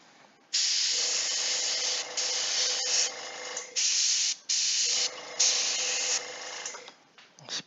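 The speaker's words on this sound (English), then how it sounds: "We'll spray the official saloon girl." Several bursts of close aerosol spray hiss as Shadows of Brimstone miniatures are spray painted, each lasting a second or two, separated by short pauses.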